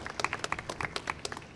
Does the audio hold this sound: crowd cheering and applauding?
yes